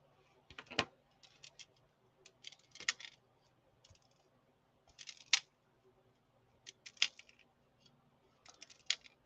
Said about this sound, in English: I can tell this is made with Fireline because it is really hard to cut with regular scissors.